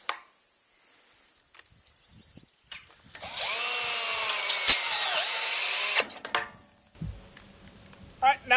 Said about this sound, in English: These take 6 self-drilling screws.